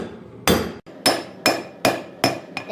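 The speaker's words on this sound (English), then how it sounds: "So right there, that's where I'm going to start forging it again." Hammer blows forging 5160 coil spring steel into a slot punch, six loud, close metallic strikes at an even rhythm of roughly one every 0.4 to 0.6 seconds, each ringing briefly.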